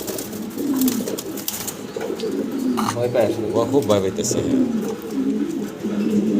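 A pair of blue barless pigeons coos in low, rolling calls close by, while people talk over them.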